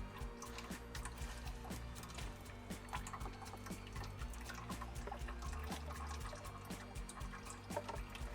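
Transmission fluid leaks from the automatic transmission pan of a Toyota Land Cruiser 80 Series, a faint, quiet trickle and drip with scattered small metallic clicks over a low background hum.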